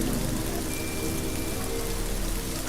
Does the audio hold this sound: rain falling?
yes